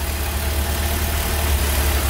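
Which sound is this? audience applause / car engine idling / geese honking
car engine idling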